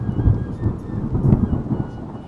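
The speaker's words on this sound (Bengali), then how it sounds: "এ সময় হঠাৎই প্রচণ্ড শব্দে বজ্রপাত, একেবারে তাঁবুর ওপর" A midnight thunderstorm over a tent: deep rolling thunder rumbles loudly and close, with heavy rain rushing steadily underneath for a couple of seconds.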